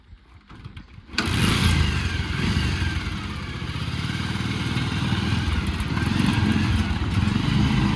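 An engine on a farm machine cranks and catches after about a second, then settles into a loud, steady close idle with a rough mid-range rumble.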